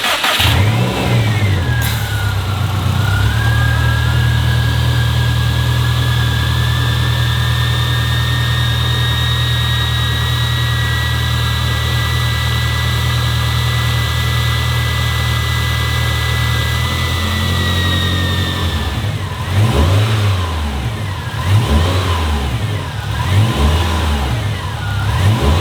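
A Subaru engine, after head gasket repair and heat cycling, idles loudly with a steady drone, then revs repeatedly near the end in rising and falling bursts.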